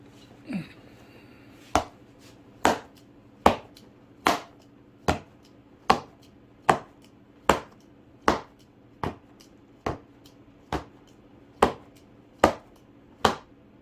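Baseball caught in a catcher's mitt, repeated sharp leather smacks at a steady pace, about a dozen catches landing roughly every second, close and crisp with no talking.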